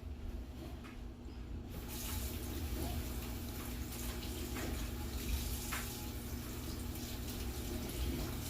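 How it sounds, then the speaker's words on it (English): Water pours steadily from a tap into a sink while hands are washed, a close, continuous rush that grows louder after the first couple of seconds. "I'm going to wash my hands"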